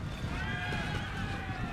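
Horse whinnying amid the noise of a Napoleonic-era cavalry battle at Borodino in the Napoleon: Total War video game, a steady neigh heard alone over a dense, constant backdrop.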